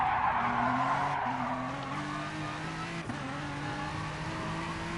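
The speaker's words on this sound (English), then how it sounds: "Currently riding on board with Mr. Saxo as he takes his out lap during this practice session." A race car on a practice out lap at the Nürburgring, heard on board with a steady, droning engine note that rises slightly, plus a brief squeal of tyres near the start.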